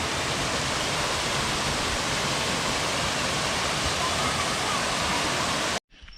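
A waterfall in the jungle on Koh Kood, Thailand, pours with a loud, steady rushing roar that continues unbroken and cuts off abruptly near the end.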